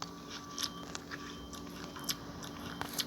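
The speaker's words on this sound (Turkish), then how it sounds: "Hepsini yiyeceğim bir ısırık bırakacağım." Watermelon is bitten and chewed in a video game, with several crisp, wet crunches spaced irregularly over a steady low background hum.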